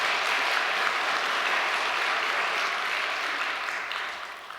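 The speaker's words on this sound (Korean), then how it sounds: "박수 한번 크게 보내주세요." A congregation at a church service applauds together: dense, steady clapping from many hands that holds for several seconds and then tapers off slightly at the end.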